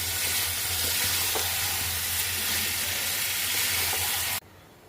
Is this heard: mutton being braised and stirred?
yes